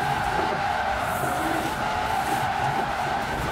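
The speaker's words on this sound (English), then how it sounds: "Good power slide." A Lamborghini in the Forza racing video game power-slides with a steady, sustained tire skid and squeal over engine noise, loud and continuous throughout.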